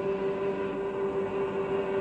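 A freight train running on the tracks, a steady rolling rumble with a sustained tonal hum, moderately loud and unbroken for the whole short stretch.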